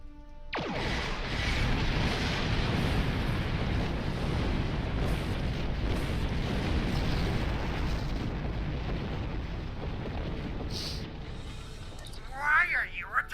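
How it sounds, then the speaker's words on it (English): Torpedo explosions in the Star Trek Online video game form a long, loud, sustained rumbling roar that fades near the end. "A torpedo."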